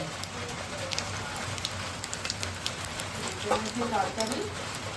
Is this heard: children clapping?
no